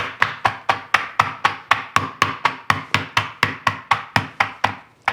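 A cookie scoop packed with guacamole is rapped repeatedly against a hard surface, about a dozen evenly spaced sharp knocks at a quick steady rhythm, close and loud with no talking.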